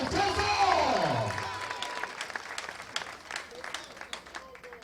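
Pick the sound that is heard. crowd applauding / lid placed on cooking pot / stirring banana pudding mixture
crowd applauding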